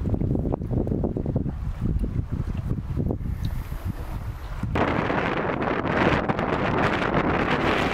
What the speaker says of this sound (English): it is just relentless headwind the whole way